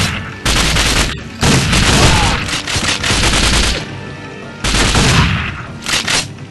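Loud, dense blasts of shotgun fire in the spy shooter 007 Nightfire, heavy repeated booms filling the whole stretch with dense noise and no talk.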